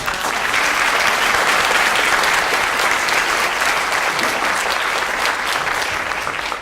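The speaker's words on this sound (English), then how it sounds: "So one more round of applause." A keynote audience gives a round of applause, dense and even clapping from a large crowd that continues strongly for several seconds without a break.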